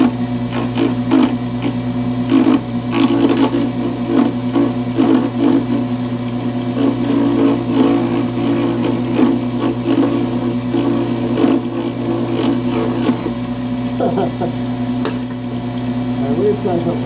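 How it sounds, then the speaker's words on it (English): Bench grinder running continuously at a steady hum, with scattered clicks and knocks from a workshop while pen blanks of honey locust, antler or lilac wood are worked nearby. "Yeah, this is my bench grinder."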